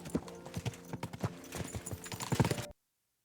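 Horse hooves clattering in Kingdom Come Deliverance 2, a brisk, close, uneven clip-clop of many steps that cuts off abruptly into silence near the end.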